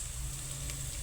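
Softened mung beans go into a hot pot with melted broth cubes, a faint, steady sizzle and bubbling hiss with a low hum underneath and no talk.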